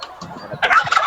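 A turkey gobbles loudly and close by, a rapid warbling burst that follows quieter background murmur.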